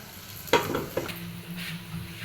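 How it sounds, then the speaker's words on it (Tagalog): Garlic and onion sautéing in a pan: a steady sizzle with a couple of sharp clinks from stirring, close by, and no voices. "gisahin muna natin ang ating bawang sibuyas"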